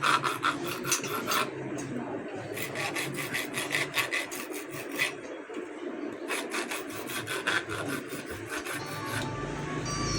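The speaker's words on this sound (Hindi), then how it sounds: "आपने अगर एक रगड़ना है ना तो सारे साथ उतने ही रगड़ने होंगे आपको, ताकि बैलेंस भी बरकरार रहे।" Fan motor parts are rubbed down by hand, giving a continuous close-up scraping rasp with quick rhythmic strokes in repeated runs and a brief lull in the middle.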